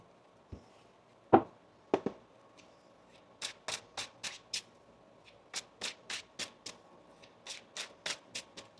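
A deck of tarot cards is shuffled by hand: a few sharp taps at first, then a run of quick, crisp riffling slaps in an irregular rhythm, close and fairly quiet.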